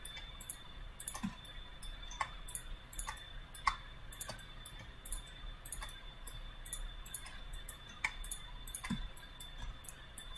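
A computer mouse clicks repeatedly while gems are selected in Rhino3D jewellery modelling, with crisp, quiet, close clicks in an uneven rhythm over a faint background hum and no speech.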